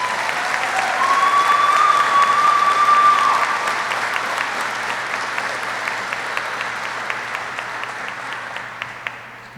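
Sustained applause from a graduation ceremony audience honoring new warrant officers, dense and steady at first, then thinning slightly, with a faint tonal whine running through the first few seconds.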